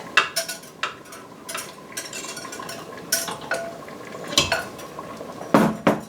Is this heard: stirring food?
yes